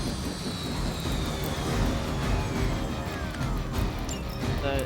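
Helicopter crash in the Marvel Midnight Suns video game: a steady loud roar of rotor and engine noise with a high descending whine and crunching impacts, running continuously throughout.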